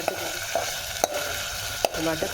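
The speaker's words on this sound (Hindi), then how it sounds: "थोड़े ऑयल में ही प्याज को फ्राई करके थोड़ा सामान डाल दूँगी" Onions frying in a little oil with ginger, garlic and tomato for korma biryani, a steady close sizzle broken by several sharp clinks of a spoon stirring against the pan.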